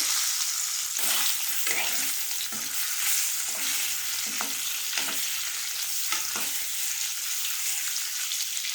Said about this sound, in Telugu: ఎగ్ అయితే ఇలా ఫ్రై చేసుకోవాలి.